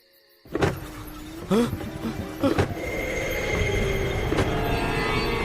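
A car in a Tamil TV drama pulls to a stop and its engine idles on with a steady low rumble after a few thumps and a door or window sound, while people talk briefly.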